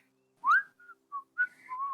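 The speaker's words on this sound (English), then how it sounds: "I'm just whistling and walking." Clear melodic whistling by one person, several short tuneful phrases with gaps between them, fairly close and alone against a quiet background.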